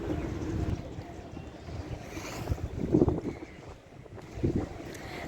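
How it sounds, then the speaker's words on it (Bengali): Wind and waves buffet a boat on the river at Prinsep Ghat on a sunless, breezy day, a steady rushing wash with wind noise on the microphone and a few louder swells. "বাইরে কি হাওয়া আর ভীষণ ঢেউ উঠছে"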